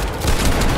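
Rapid automatic gunfire sprayed in a Fortnite trios tournament match, a loud continuous burst of overlapping shots with no pauses, filling the whole short moment without any talk.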